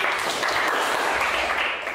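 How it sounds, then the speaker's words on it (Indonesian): Students in a classroom clap for a classmate, a brief burst of dense, steady applause at moderate volume throughout. "Beri tepuk tangan untuk Mas Iwan"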